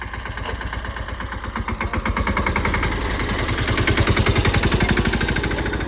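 A tractor engine idles nearby on a farm, a steady rhythmic chugging that grows a little louder partway through and runs alone without speech.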